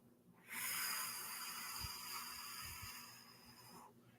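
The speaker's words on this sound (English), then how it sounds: "an exhale through the mouth with a windy sound count of 4" A long, windy exhale through the mouth in Lamaze patterned breathing, a steady close breathy hiss lasting about three seconds before fading, with no talk over it.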